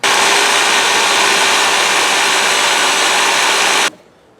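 A power drill bores through with a half-inch bit during a Jeep Wrangler JKU lift install, a loud, steady whine for nearly four seconds that cuts off abruptly.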